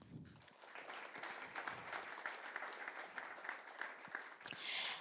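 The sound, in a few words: audience applause welcoming Tom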